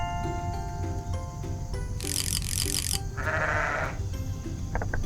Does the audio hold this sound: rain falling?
no